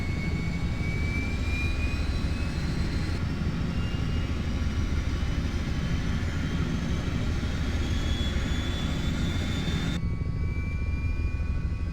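Turbine engine of an H-60 helicopter spooling up during startup in Flight Simulator 2020, a steady loud whine with rising high-pitched tones over a dense rumble that stays constant throughout.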